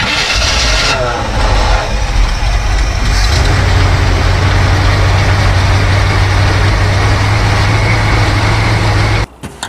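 An old 1953 GMC dually truck engine cranks and catches, then settles into a loud, steady low rumble up close before cutting off abruptly at the end.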